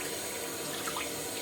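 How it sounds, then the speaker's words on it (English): A tap runs hot water into a sink in a steady, even stream, close and continuous with no break, and nobody speaks. "I'm just trying to get hot water here."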